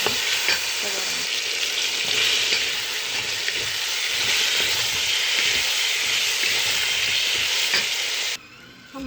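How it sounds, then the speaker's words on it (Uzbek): Ingredients and spices frying in a pan as filling for dolma, a dense steady sizzle with stirring throughout, cutting out abruptly near the end before resuming briefly. "Yaxshilab qovurilib olindi."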